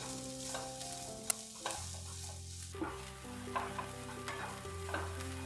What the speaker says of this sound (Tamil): இதையும் சேர்த்து நம்ம நல்லா ஃப்ரை பண்ணிக்கலாம்.